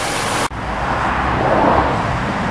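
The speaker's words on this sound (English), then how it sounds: "You can also hear the engine. It currently is on." Inline four-cylinder engine of a 2016 Subaru Outback Limited runs quietly and steadily under the open hood, a close, even broadband hum with a brief dip near the start and no voices.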